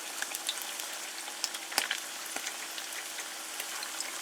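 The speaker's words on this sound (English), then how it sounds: "once they're in the hot oil for just a little while" Shredded beef and cheese flautas fry in hot oil, giving a soft, continuous sizzle with scattered pops and crackles, fairly quiet and close, with no talking.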